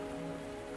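Rain in the video game Wuthering Waves, a steady, even patter of drops on a surface with a low tonal hum beneath, quiet and continuous without talk.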